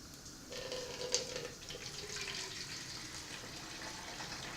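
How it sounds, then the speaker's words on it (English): Two cups of water poured from a measuring cup into a roughly 30-ounce plastic spray bottle in a kitchen, heard as a steady splashing trickle that runs the full length, with no talking over it. "we're going to add 2 cups of water to the bottle"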